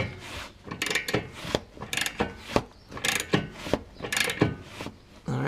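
Ratchet tightening a nut on the lower ball joint of a 2005 Acura TL, with a run of close, irregular clicking strokes and metallic rubbing, no talk.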